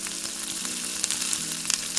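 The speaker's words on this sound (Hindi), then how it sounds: "बिल्कुल लाइट फ्लेम पे हमने इनको भून लेना है, हल्का हल्का सा फ्राई करेंगे हम इनको ना।" Kachnar buds frying lightly in oil over a low flame, giving a steady, close sizzle with soft crackles and a few sharper pops, with no voices over it.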